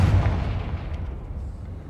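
A Confringo fire spell explodes in Hogwarts Legacy with a single loud, booming blast that rumbles and fades over about two seconds.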